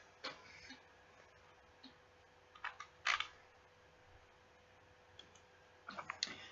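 Sharp mouse clicks while selecting a package on a computer, a scattered series of small dry ticks with a few quick doubled clicks, close and quiet with no talking.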